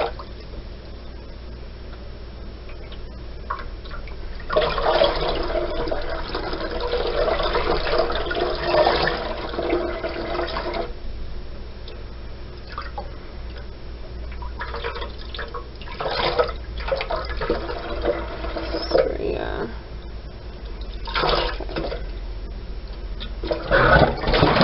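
Tap water gushes to rinse yarn dyed with food colouring, loud rushing surges separated by quieter running and dripping, with several shorter splashing bursts later on.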